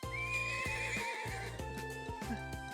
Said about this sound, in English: I'm on the horse now. Time to ride.